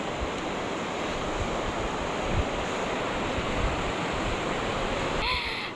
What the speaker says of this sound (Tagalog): Lalaki po ng alon po pag po diyan sa siligan po.